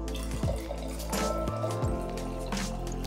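Water pours into a bowl of bread dough ingredients with a bubbling, gurgling trickle whose pitch shifts as the stream changes, close and fairly quiet.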